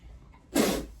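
A single sharp sneeze bursts out halfway through after a quiet moment, loud and close, then fades over the next half second.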